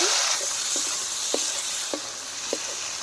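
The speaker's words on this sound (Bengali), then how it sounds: "তো এখানে চিংড়ি মাছগুলো ভেজে নিচ্ছি" Shrimp fry in hot oil in a pan while a steady sizzle hisses throughout, broken by a few sharp pops and spits of oil.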